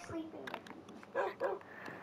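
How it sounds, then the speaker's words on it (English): In a video game, a dog gives a couple of short barks and yips, fairly close and moderately loud, mixed with people talking. "We have a lot of dogs."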